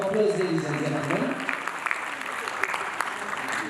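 An audience at a Nairobi marketers' evening event gives a round of sustained applause, a dense field of clapping that continues throughout, with a voice speaking briefly over the start.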